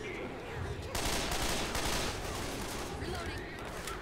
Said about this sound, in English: the game audio is suddenly really loud with this gun